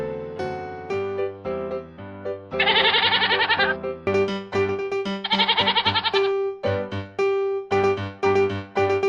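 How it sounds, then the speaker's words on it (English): A goat bleats in an animated children's animal piece, two long wavering bleats set among a bouncy tonal melody. "Goat."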